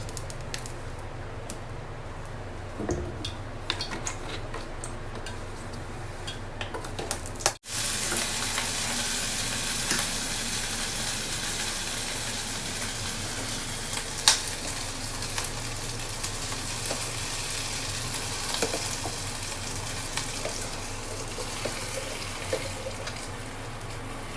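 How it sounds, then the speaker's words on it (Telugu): Oil goes into a hot pan and sizzles, a quieter hiss jumping after a brief cut to a steady, brighter, continuous frying sound, heard close with no talking. "ప్యాన్ వేడైన తర్వాత ఆయిల్ వేయాలండి"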